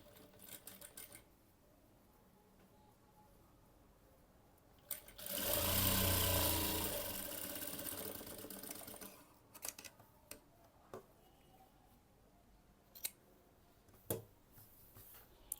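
A sewing machine runs in one steady burst of stitching on a blouse, lasting a few seconds, followed by quiet handling sounds and scattered clicks from the machine and fabric.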